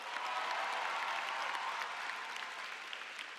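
A high school commencement audience applauds in a large hall, dense even clapping from many hands that holds steady and then thins slightly toward the end.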